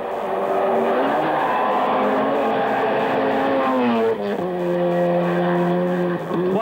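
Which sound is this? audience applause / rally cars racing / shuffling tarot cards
rally cars racing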